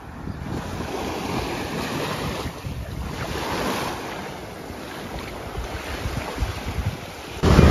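Steady rush of ocean surf washing onto a beach at Porto de Galinhas, Brazil, with wind buffeting the microphone throughout and a louder gust at the end.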